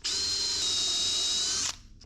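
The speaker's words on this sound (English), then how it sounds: "I'm going to drill now for one more of these, and I'll tap it" A power drill bores a screw hole during a wooden boat restoration, one steady high-pitched whine running close and loud for under two seconds before cutting off sharply.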